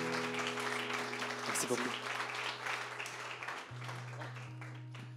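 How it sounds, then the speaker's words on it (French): A church congregation applauds, a dense, moderately loud spread of clapping that fades toward the end, with a voice speaking briefly over it and a sustained organ-like tone underneath. "Est-ce qu'on peut encore les applaudir juste pour les accueillir et les remercier?"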